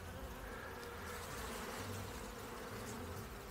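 A dense, steady buzzing of many honey bees close by at a beehive, continuous and unbroken with no voices.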